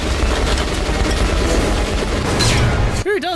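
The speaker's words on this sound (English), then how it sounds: "this is a grenade right into the middle of it" Grenade blasts in the shooter Metro Last Light land as a dense, loud barrage of booming explosions and rumbling gunfire-like crackle that fills the whole stretch, cutting off abruptly near the end.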